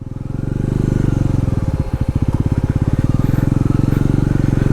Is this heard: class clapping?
no